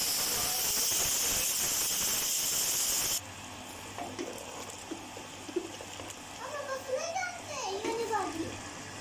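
Steam rushes out loudly and steadily for about three seconds as the pressure weight comes off an Instant Pot cooking mutton korma, then cuts off abruptly, leaving quieter background where children's voices chatter.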